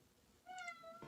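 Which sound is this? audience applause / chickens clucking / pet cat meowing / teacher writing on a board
pet cat meowing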